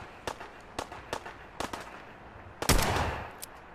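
Gunshots in a western-style video game, a string of sharp, close cracks spaced irregularly, followed by a louder blast with a longer rumbling tail, no talking.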